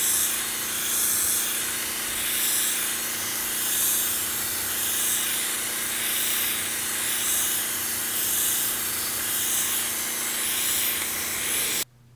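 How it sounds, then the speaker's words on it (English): An airbrush sprays pearl lime green paint onto a Pro-Line R/C car body, giving a steady, loud, continuous airy hiss with gentle pulsing. It runs alone without talk and cuts off abruptly near the end. "just do the coverage like I would with a spray can basically"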